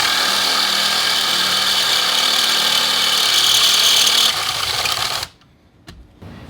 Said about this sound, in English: So let's go ahead and drill this out